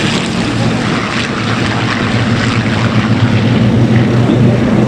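A Mustang fighter's piston engine drones at an airshow, a loud continuous low rumbling roar that holds steady throughout, no voices.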